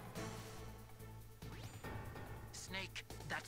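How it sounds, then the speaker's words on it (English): In the Metal Gear Solid video game, bulletproof glass is struck several times, with sharp smashing and thwacking hits spread over a few seconds amid game sounds and a voice. "Snake, that's bulletproof glass. You can't break it with an ordinary weapon."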